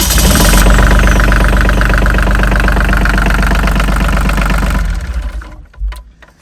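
A Volvo marine diesel engine on a sailing boat fires up and runs with a loud, steady knocking clatter for about five seconds, then cuts out and dies away into near silence broken by a couple of faint knocks.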